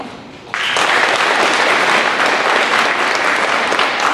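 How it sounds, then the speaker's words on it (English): A school board meeting audience breaks into a loud round of applause for a state-winning student team, steady dense clapping starting abruptly and continuing throughout. "I want you to give them a real round of applause"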